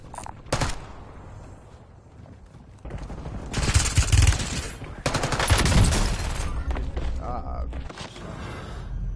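Heavy LMG machine gun fire in Black Ops 6 multiplayer, with sustained loud bursts of automatic shots in the middle and later part, mixed with other game noise and some talk.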